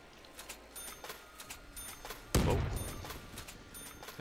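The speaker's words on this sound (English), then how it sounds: "Throw a nade in just for fun." A grenade going off in a zombies video game, a single loud blast about midway that trails into a rumbling decay over a background of faint clicks and ticks.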